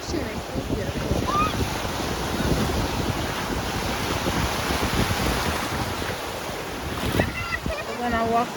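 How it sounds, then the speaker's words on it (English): Ocean waves breaking steadily on a beach, a continuous loud wash of surf with wind buffeting the microphone throughout. "Let's see, it's a beautiful wave. The ocean is so beautiful."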